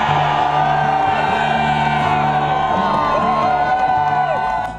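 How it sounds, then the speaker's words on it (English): An exuberant crowd cheers and whoops continuously at a Madison parade where people deliver recall petition signatures, with loud, dense voices and shouts carrying throughout. "An exuberant crowd in Madison as a parade of people submit signatures in the effort to recall Governor Scott Walker."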